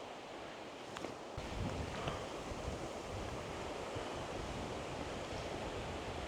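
Wind blows by the water at a local fishing spot, buffeting the microphone with a constant broad roar and low rumbling gusts, faint and unbroken, with a couple of light knocks early on.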